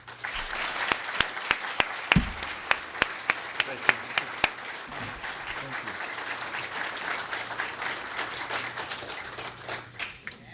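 A room applauds at an introductory press conference for a women's basketball head coach, the steady wash of clapping punctuated by sharp, distinct claps near the front for about ten seconds before thinning out, over a faint low hum.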